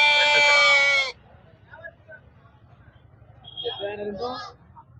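A sheep and a goat bleating at a goat market, a loud cry up front followed by a quieter, wavering bleat a few seconds later over faint background noise.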